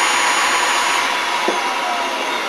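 A Magnum Series rotary vane vacuum pump runs with a steady, dense, airy roar that holds unchanged at close range, with no voices over it.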